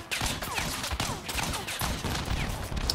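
Rapid machine-gun fire from vehicles in the Crossout combat game rattles in dense overlapping bursts, with sharp repeated cracks over a rumbling background that lasts only a few seconds.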